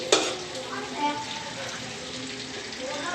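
Cumin seeds drop into a spoonful of hot oil for pav bhaji, opening with a sharp crackling burst and settling into a loud, steady, close sizzle.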